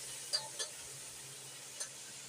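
Seafood stir-fry sizzling softly in a pan, with a faint steady hiss and a few light clinks of a utensil stirring, quiet and close.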